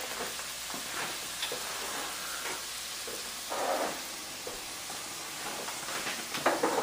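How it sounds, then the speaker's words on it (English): Peppers, onions, garlic and tomatoes sauté in a pan, a steady soft sizzle with faint stirring scrapes and a few louder crackling bursts near the end. "We're going to pull these tomatoes over, let this saute just a little more."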